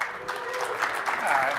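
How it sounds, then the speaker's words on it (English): A live podcast audience applauds together, a dense wash of clapping from many hands that holds steady throughout, with voices mixed into the crowd noise. "everyone clapped. Every single person clapped"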